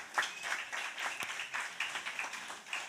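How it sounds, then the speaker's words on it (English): Scattered audience clapping at a university winter school session, fairly quiet and sparse, with individual claps distinguishable in an uneven rhythm. "another round of applause"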